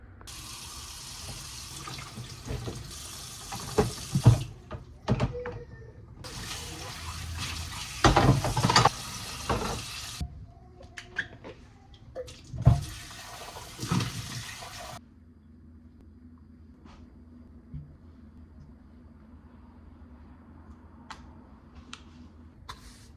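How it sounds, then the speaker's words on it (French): Tap water running in bursts into a sink while baby bottles and freezer containers for purées are washed, with stops and starts, clinks of plastic and a quieter stretch at the end. "Laver les biberons plus laver les trucs de congélation pour ces purées."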